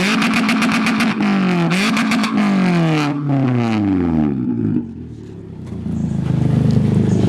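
A straight-piped 2014 Toyota Corolla with a blast pipe revs hard several times close by, its raspy exhaust climbing and falling in repeated bursts before settling to a rough idle.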